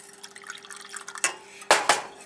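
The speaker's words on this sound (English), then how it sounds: "Keep adding the milk little by little." Milk goes little by little into a whisked mixture for eggs Benedict, giving a few soft splashes and drips with light clinks, two sharper pours standing out near the end.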